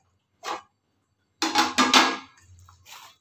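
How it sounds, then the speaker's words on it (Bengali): Lid taken off a covered container of sweet potato and flour dough, a short clatter followed by a longer scraping rattle of the lid, then a faint clink. "আমি ঢাকাটা খুলে দেবো"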